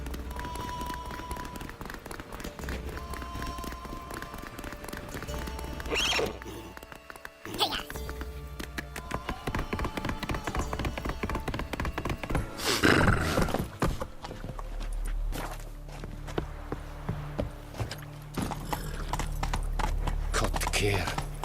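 Horse hooves clip-clop at a running gait in The Witcher 3, a steady rhythmic patter through most of the stretch with brief breaks, mixed with game music and ambience and occasional spoken lines.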